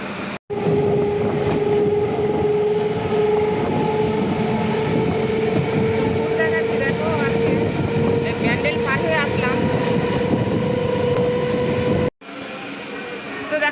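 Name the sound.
train riding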